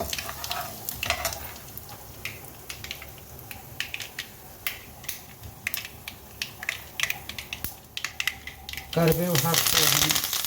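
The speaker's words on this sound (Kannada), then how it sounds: "ಕರಿಬೇವು ಹಾಕ್ತಾ ಇದ್ದೀನಿ." Curry leaves drop into a hot tempering of chana dal, urad dal, mustard seeds and cumin, giving a steady sizzle with repeated clicks of stirring, then a louder burst of spitting near the end; a voice talks over it.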